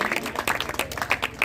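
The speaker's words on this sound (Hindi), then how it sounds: "एक बार जोरदार ताली बजाओ" Audience clapping at a school archery competition, a quick run of many separate claps in close succession, near and moderately loud.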